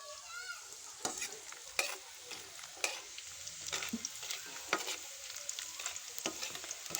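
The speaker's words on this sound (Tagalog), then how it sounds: "gisa muna tayo mga idol ng sibuyas bawang. At pagkatapos halo-haluin lang natin yan mga idol" Onion and garlic sautéing in a pan, a soft sizzle broken by sharp, irregular scrapes and clinks of a spatula stirring, close and fairly quiet.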